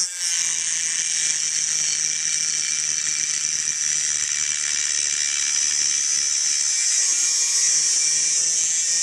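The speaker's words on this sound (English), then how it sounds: "I have to angle the cutting wheel a little bit so I can cut" A cutting wheel grinds through a fuel pump pipe on a Mitsubishi Galant VR4 during a fuel pump install, a loud continuous high-pitched whine and rasp that holds steady for the whole stretch, with no talking.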